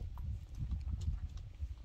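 Horse hooves clip-clop in a steady, uneven rhythm over a low rumbling background, fairly close, as a horse pulls a carriage.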